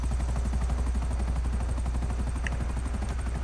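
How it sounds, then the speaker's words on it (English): A helicopter flies nearby in the video game GTA Online. Its rotor beats out a steady, fast chop over a constant low engine drone, with no talking. "There's a helicopter behind me"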